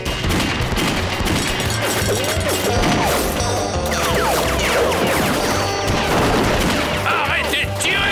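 Cartoon gunfire during a comic bank hold-up: loud, continuous volleys of shots, crashes and ricochets that keep going nearly nonstop, with occasional shouting voices buried in the din.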